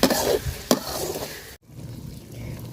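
Spice paste frying in oil with dried loitta fish for a home-grown vegetable curry: a loud, crackling sizzle with stirring scrapes, a sharp clack, a brief drop, then steadier frying.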